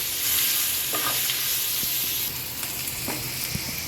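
Chopped large onion added to a hot pan for an onion-tomato chutney, frying with a steady close sizzle and a few light stirring clinks, no talk.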